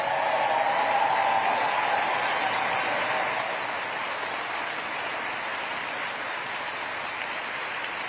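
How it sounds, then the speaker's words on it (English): Large audience applauding at the James Beard Restaurant and Chef Awards ceremony, a dense sustained wash of clapping that gradually softens toward the end. "Please give a huge round of applause."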